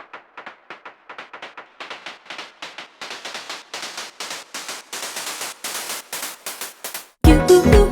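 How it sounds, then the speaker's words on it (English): Chopped drum loop for a pop/chill house build-up, cut by hand to add swing: a steady run of short, clipped percussive hits growing denser and louder, ending in a burst of full, dense sound. "I just chopped this drum loop up for the build up"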